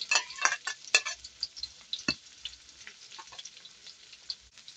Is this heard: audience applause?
no